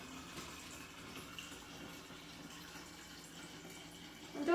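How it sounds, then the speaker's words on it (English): Brewed tea poured gently into a kombucha jar holding a SCOBY, a steady faint stream of liquid running continuously with low splashing, quiet and close throughout. "I'm going to very gently, hopefully not spill it all over the world, pour my tea into my vessel"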